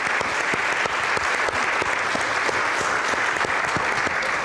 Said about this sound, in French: Can we put our hands together?